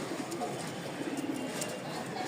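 A male pigeon coos softly among other birds in a loft, low murmuring coos under a steady background of bird chatter and ambient noise.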